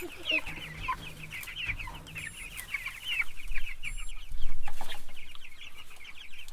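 Several meat chickens cluck and murmur continuously close by, a busy flock chattering with soft background rumble.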